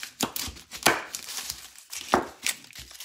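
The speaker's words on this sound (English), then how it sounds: "I've got some onion that I'm gonna put in the manual food processor." An onion is chopped in a Pampered Chef Quick Slice manual food processor, producing a handful of sharp, close chopping thuds at an uneven pace.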